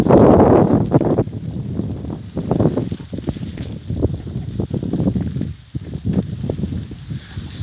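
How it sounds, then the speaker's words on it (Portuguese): Strong wind blows outdoors around a mango tree during the mango and cashew harvest season, a gusty rush buffeting the microphone with a loud burst at the start followed by continuous rumbling and flapping. "O barulho aí, o vento hoje está forte."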